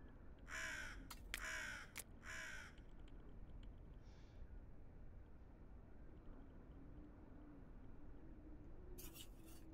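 Bird in a puzzle video game letting out three loud harsh caws close together at the start, then a faint low hum, with one more caw cutting in at the very end.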